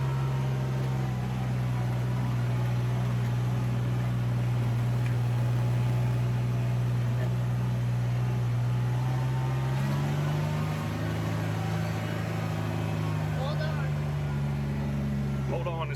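Vehicle being driven during a driving lesson on a farm after an ice storm, with a steady low engine drone throughout that shifts pitch partway as it changes speed.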